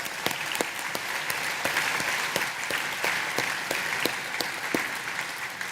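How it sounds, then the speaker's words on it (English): An audience at the Deloitte Top 200 awards event applauds, a loud, sustained round of clapping from a large crowd, dense and steady with sharp individual claps standing out throughout. "Please give them a massive round of applause."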